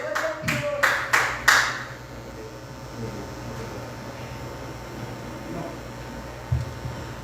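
A church congregation claps together in a short burst of about four sharp, rhythmic claps that fade into quiet room hum with faint voices.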